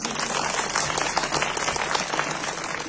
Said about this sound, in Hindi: सारे वास्तव जोरदार तालियां जी।